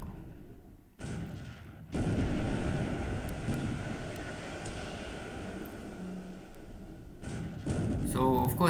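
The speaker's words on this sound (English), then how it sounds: "And Mutsu is using the main battery to create firework" Warship Mutsu fires its main battery guns in the War in the Pacific video game, a deep rumbling boom that rolls on for several seconds with a low, windy roar and a sharp burst at the end.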